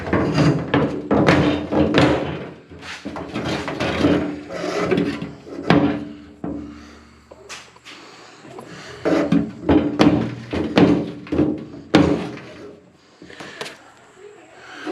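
A stick bangs and scrapes inside a Ford Torino gas tank, producing a run of hollow metallic thunks and rubbing knocks in irregular bursts, close and fairly loud, with a short pause midway.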